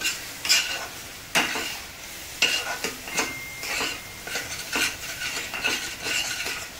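A spoon scraping and stirring a thick peda mixture of warm milk in a pan, with sharp intermittent clinks and scrapes at an irregular rhythm, close and fairly loud, no voices.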